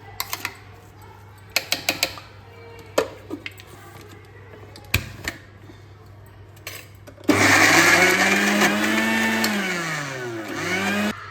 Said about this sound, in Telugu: ఈ విధంగా మెత్తగా కొట్టేసుకొని మిక్సీ పట్టేసుకొని